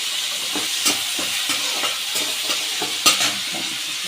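Onion and chili paste sizzle in a wok, a continuous hiss of frying broken by the repeated scrape and clack of a utensil stirring against the metal, close and loud with no talking.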